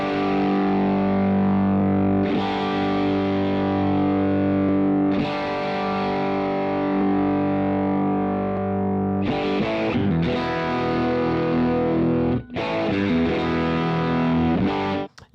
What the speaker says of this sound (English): Now let's go to this slightly overdriven tone.